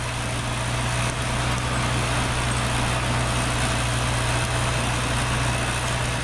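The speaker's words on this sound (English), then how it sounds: "I drive closely alongside the outer logs, allowing the tire chains on my tractor's rear wheel to snap off any remaining side branches." A farm tractor engine runs steadily while logging in a sub-zero boreal forest, a loud, constant low mechanical drone with no change in pitch and no voices.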